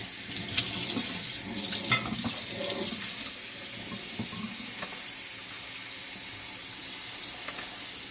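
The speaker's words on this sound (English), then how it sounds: "Fill it with water." A steady stream of running tap water pours and splashes into a bowl holding sea moss, continuous and close, with no voices.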